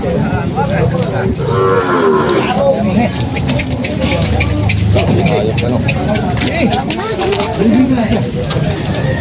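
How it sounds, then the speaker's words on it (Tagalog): Cattle moo loudly and repeatedly over a constant low engine rumble at a livestock auction market in Lucena, Quezon, the lowing calls overlapping in a busy outdoor scene. "Giniginaw yung baka."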